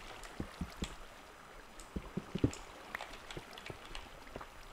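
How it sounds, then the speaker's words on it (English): A small waterfall in a Minecraft cave gives a faint, steady watery hiss, with soft irregular drip-like pops and splashes scattered over it and no speech. "there's a little waterfall"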